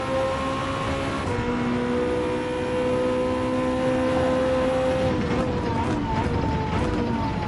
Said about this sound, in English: the Porsche sounds pretty nice actually